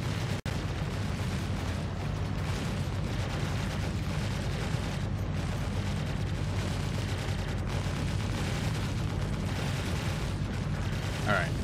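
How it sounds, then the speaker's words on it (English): Ship cannons firing in the space game Star Citizen from a Constellation fitted with cannons: a dense, continuous roar of rapid blasts and rumbling impacts, steady and loud throughout, with someone talking over it. "I'm just going to open fire and start back straight"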